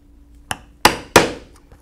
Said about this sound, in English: So we will punch these holes all the way down this side and on the back side as well.